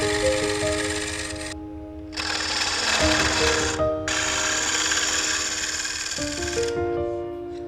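Carbide woodturning tool taking light passes on a lathe, a steady loud whirring hum with a gritty, hissing cut that eases off and swells back in several bursts, with no voices.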